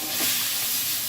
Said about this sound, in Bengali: প্রথমে আমরা চিংড়ি মাছগুলো ভেজে নিব।